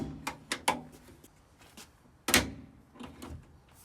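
Door hardware on a Chevy Corvair Greenbrier van gives a run of sharp clicks and clacks, then a louder metallic clunk as the latch releases and the door swings, with quieter taps after.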